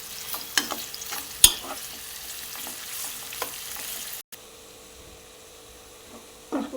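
Onions frying in oil in a pan for chicken dum biryani, a steady close sizzle with occasional stirring clicks and a sharp tap. It cuts out briefly midway, then returns quieter, and no one speaks.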